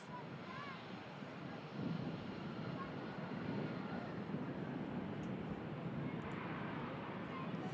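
Airbus airliner with orange livery at Manchester Airport, a steady distant jet engine roar and rumble rising slightly partway through, with wind noise on the microphone and no speech heard.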